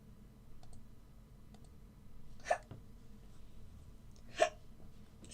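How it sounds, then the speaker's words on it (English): Two sharp hiccups from a person, a couple of seconds apart, standing out clearly over a low steady background hum. "Excuse me. I have hiccups."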